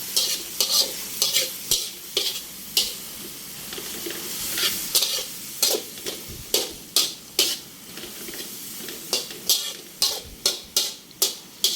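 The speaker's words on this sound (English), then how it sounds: "I'm just gonna mix it up. So mixing the sauce." A spatula scrapes and knocks repeatedly against a hot wok as sauce is stirred into frying shrimp hofan, sharp rhythmic clacks over a steady sizzle, close and loud with no talking.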